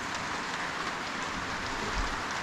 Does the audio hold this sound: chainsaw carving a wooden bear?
no